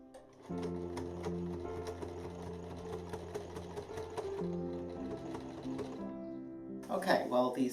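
A sewing machine stitches doublet sleeves into an Elizabethan doublet, its steady rapid needle chatter running continuously for several seconds before stopping, with a brief rustle of fabric at the end.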